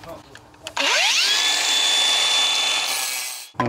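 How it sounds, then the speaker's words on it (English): Power tool with a cutting disc scoring a concrete footing on a brick and block build site, spinning up sharply with a rising whine, then grinding steadily and loudly for nearly three seconds before cutting off. "We'll score this footing here."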